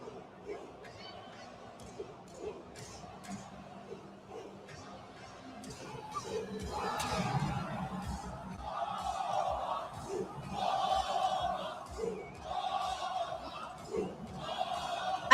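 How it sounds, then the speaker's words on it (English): Crowd noise at a live WWE wrestling event builds from scattered chatter into louder cheering and shouts during a wrestler's entrance, rising and falling in waves with some voices nearby. "I love the way it sounds when the crowd really gets into it."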